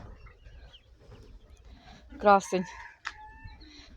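A Shamo fighting-breed rooster with hens in a farmyard gives a short, sharp call followed by a brief squawk against quiet background sounds, while someone speaks softly nearby.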